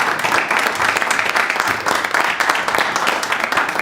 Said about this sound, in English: I think a big applause from us to all of you